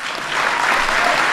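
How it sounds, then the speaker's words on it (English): A crowd gives a big round of applause for Chicago Blackhawks player Kimmo at a Stanley Cup champions ceremony, dense, loud and continuous clapping with no voices over it. "And so give Kimmo a big round of applause."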